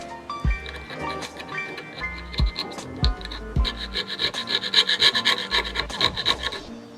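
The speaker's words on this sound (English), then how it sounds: "there's just a little bit of glue right on the edge on the inside here that I'm gonna just scrape away" Glue being scraped from the inside edge of a handmade friction folder knife, heard as repeated rasping, rubbing strokes at close range, irregular and fairly steady, with occasional sharper knocks and no talking.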